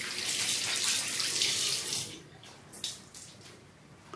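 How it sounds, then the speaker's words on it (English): Water streams and splashes into a bathroom sink as an exfoliating pad is wrung out, a steady broadband rush for about two seconds, then softer intermittent trickles and drips, close and fairly quiet with no talking. "Might do this twice, wringing this out again."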